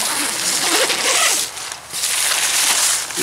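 A zipper is drawn open on the entrance of a Marmot Alpinist 2p tent outdoors, a loud close ripping sound in two long pulls with a short pause between them.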